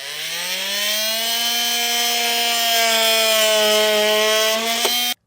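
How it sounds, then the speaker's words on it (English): Multi-tool trimming the plastic bumper fascia of a 2022 Jeep Grand Cherokee, a loud, steady high-pitched buzzing whine held for about five seconds before cutting off abruptly. "I like to use a multi-tool on this type of stuff."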